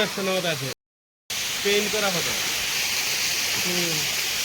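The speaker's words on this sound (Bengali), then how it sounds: "আমরা এখানে এসেছি ঝর্ণা দেখতে কিন্তু কিছুই দেখা যাচ্ছে না আওয়াজ শোনা যাচ্ছে" A steady roar of a waterfall at Jayanti hills fills the air, broad and continuous, with people talking intermittently over it.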